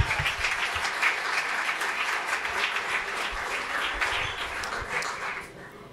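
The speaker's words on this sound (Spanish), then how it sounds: "Un aplauso para ustedes." Audience applause at a stand-up comedy show, a loud, dense burst of clapping from a crowd that holds steady for several seconds before fading at the end.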